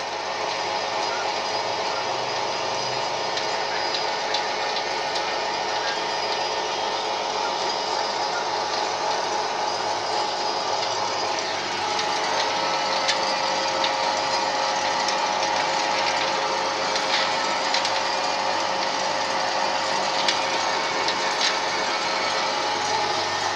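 A 220 V pellet mill fitted with a 160 die runs steadily, giving a continuous loud mechanical whir with a rattling, ratchet-like grinding texture that stays even throughout.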